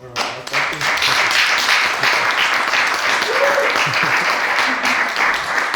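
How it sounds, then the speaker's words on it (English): Sustained applause from a conference audience after a talk, dense and steady clapping filling the room for several seconds, with a few faint voices mixed in. "Can we have applause for our"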